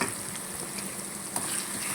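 Asafoetida sizzling in hot oil during a tempering for a curd chutney, a steady close hiss of frying with a faint click or two, no voices.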